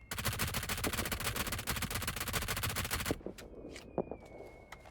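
An MG3 machine gun in PUBG fires a long, rapid, loud sustained burst for about three seconds, then stops, leaving a few scattered distant shots while a voice speaks briefly.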